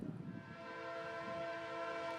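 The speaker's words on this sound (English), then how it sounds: "We'd hang around for Amtrak 92, coming into Tampa after hitting the diamond in front of us" Amtrak 92 passenger train near Tampa sounds a loud, sustained multi-tone horn blast that holds steady throughout, with rumbling wheels underneath as it approaches a rail diamond crossing.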